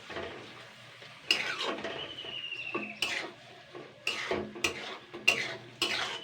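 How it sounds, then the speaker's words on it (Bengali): Chopped onion and fish eggs stirred in hot oil: a spatula scrapes and knocks against the pan in irregular strokes over a soft sizzle, close and fairly quiet. "এবারে এই পেঁয়াজ কুচানো আর ডিমটা জাস্ট আমি 1-2 মিনিট আগে নেড়ে নেবো।"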